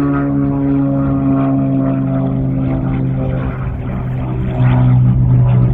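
A small propeller plane from a nearby amateur airfield near Troisdorf drones overhead, a loud steady engine hum with strong low tones that swells slightly toward the end.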